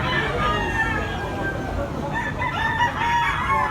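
A bullstag gamecock crows loudly and close in a busy outdoor gathering in Tabunok, Cebu, the drawn-out call rising over clucking fowl and people talking nearby.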